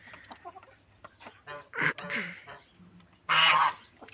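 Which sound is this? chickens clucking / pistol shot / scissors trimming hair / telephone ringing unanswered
chickens clucking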